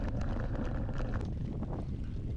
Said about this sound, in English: Today it's all plains, flat farm land, so the wind's just coming through.